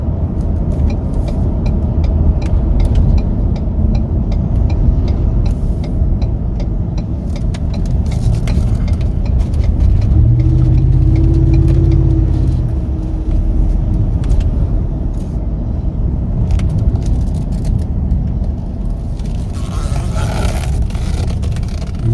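A 2018 Ford F-350 XL regular cab utility bed truck on a road drive gives a steady, loud engine drone with road rumble from inside the cab, and a slight rise in pitch midway.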